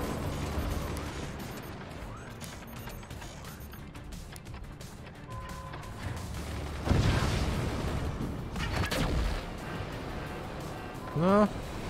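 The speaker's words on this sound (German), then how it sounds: "dann jetzt ist hier irgendwas fürchterlich explodiert" Explosions in the game Forts: booming blasts and crashes rise out of ongoing battle noise, with a big burst in the middle and smaller pops later. A person talks throughout.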